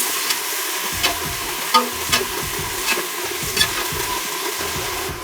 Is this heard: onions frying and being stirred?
yes